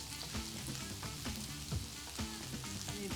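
Capsicum frying in an aromatic pan for a spicy Asian shakshuka, a soft continuous sizzle with recurring stirring scrapes, fairly quiet and close.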